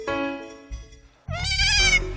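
Goat kids bleating up close at a veterinary exam, one long wavering cry followed after a brief pause by another loud, shaky bleat.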